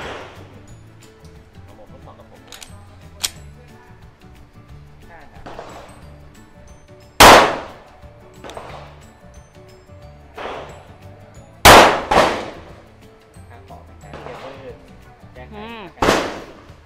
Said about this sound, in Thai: ก็จะทดสอบยิงนะคะในระยะ10เมตรนะคะ5นัด